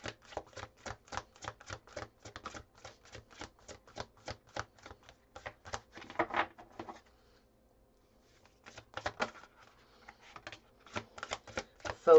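Sticky tarot cards being shuffled by hand, a rapid run of crisp riffling flicks, close and clear, with a short pause before the shuffling resumes.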